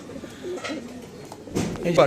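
Soft pigeon coos close by, a few low murmuring calls over a quiet background that swells louder near the end.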